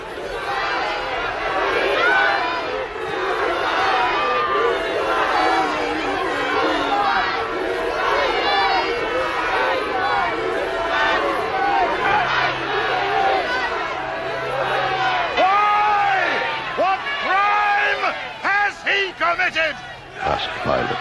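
A crowd shouts loudly and continuously in a dramatized reading of the Gospel of Matthew, a dense roar of many voices that swells and breaks into separate cries near the end.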